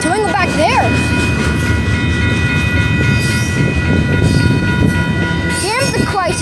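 Union Pacific freight train rolling through El Paso, a loud continuous rumble and rattle of cars with wavering squeals, plus bursts of horn-like tones at the start and near the end; voices talk over it.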